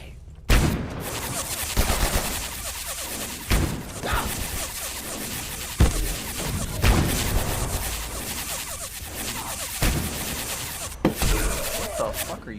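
Gunfire in Abiotic Factor: repeated sharp shots crack out in bursts every second or two, fairly close and loud over a steady background hum.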